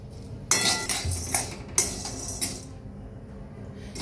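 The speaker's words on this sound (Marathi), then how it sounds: "तर मी चणा डाळ भाजून घेते." Chana dal roasting in a pan for chakali bhajani flour, heard as a few sharp clinks and rattles of lentils and a stirring utensil against the pan, in brief close bursts over a quiet background.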